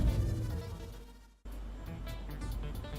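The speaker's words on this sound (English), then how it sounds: "it's the sound of the assembly line itself going here" Mechanical assembly line machinery whirring in the video game Citizens of Earth, a steady low drone that cuts out briefly midway and then resumes with faint rhythmic clanks.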